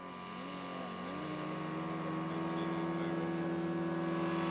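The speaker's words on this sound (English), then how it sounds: "Jerry Gray's going to fly his Super Cub for us" Scale model Super Cub airplane from an Icon Northwest kit in flight, its small engine droning steadily with a rising and shifting pitch as it passes, growing slightly louder throughout.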